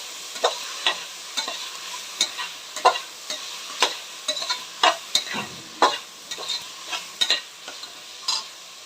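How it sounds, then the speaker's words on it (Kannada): Tomatoes fry in a pan while being stirred, giving a steady run of sharp scraping strokes against the pan over a soft continuous sizzle, close and fairly loud, with no voices. "ಇವಾಗ ನೀವು ಟೊಮೊಟೊ ಹಾಕಿ ಚೆನ್ನಾಗಿ ಫ್ರೈ ಮಾಡಬೇಕಾಗುತ್ತೆ"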